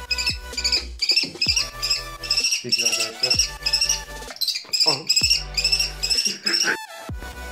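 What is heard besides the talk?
young kestrel chick chirping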